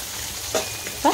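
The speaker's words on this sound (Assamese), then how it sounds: "ভালকৈ নোহোৱালৈকে মই এনেকৈ ওলোটাই ভাজি থাকিম" Fish wrapped in pumpkin leaf fries in a pan, giving a steady close sizzle with a couple of brief louder crackles as it is turned.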